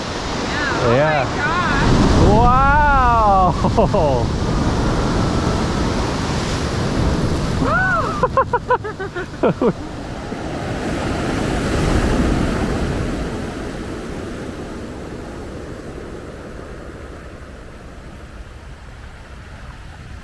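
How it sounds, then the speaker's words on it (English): Ocean surf rolling onto the Pacific Northwest coast, a broad steady wash swelling and easing with wind buffeting the microphone, while people exclaim excitedly over it early on. "The waves are coming in."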